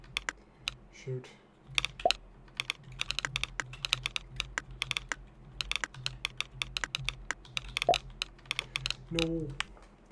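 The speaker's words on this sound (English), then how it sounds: "We're typing Wealth of Nations tonight." Fast keystrokes on a computer keyboard in a typing-practice session, clustered clacking bursts at close range with short pauses between runs and brief vocal sounds in between.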